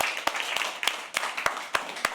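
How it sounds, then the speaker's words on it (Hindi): Scattered audience clapping at a live poetry open mic, a few distinct sharp hand claps spaced irregularly over a low murmur, close and fairly loud, as a performer is called to the stage. "Give it up for Hariom, guys."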